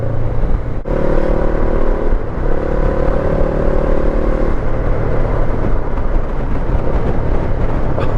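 A Honda NX500 parallel-twin motorcycle engine with an aftermarket exhaust runs steadily up close with a throaty, slightly raspy exhaust note, holding a constant drone throughout with no pauses.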